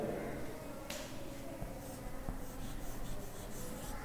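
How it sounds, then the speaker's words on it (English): Chalk or marker writing a sentence on a classroom board, a continuous scratchy rubbing with small taps between strokes, moderately close over faint room noise, without speech. "Now I am going to write a sentence here."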